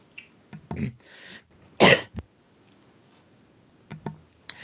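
A single sharp cough stands out amid a few softer throat sounds and small clicks in an otherwise quiet room.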